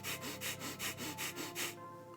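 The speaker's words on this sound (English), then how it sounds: "an example of that would be me breathing fast through my nose" A person breathes fast through the nose in quick rhythmic sniffing pulses, about seven in under two seconds, close and breathy, then stops.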